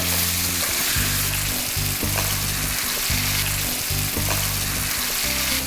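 Chicken and broad bean curry with chili and coriander powders sizzles in a pan, a loud continuous frying hiss broken by regular scraping and stirring strokes.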